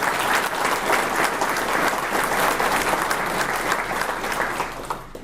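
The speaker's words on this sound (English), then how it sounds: "I think everybody else needs to give you a round of applause as well." Sustained audience applause fills a ribbon-cutting ceremony and dedication for the Gardner Justice Center, a dense, steady wash of many hands clapping at full strength that eases off slightly near the end.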